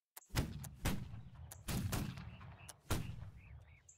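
Rifle volleys fired on command in a multiplayer video game line-battle practice match, four loud separate shots, each with a booming tail, spaced about a second apart.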